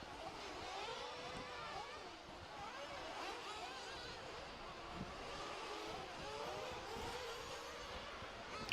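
Nitro off-road RC cars race in qualifying at the ROAR Nitro Off-Road Nationals, a steady, distant buzz of several high-pitched small engines overlapping without pause under a faint, noisy outdoor background.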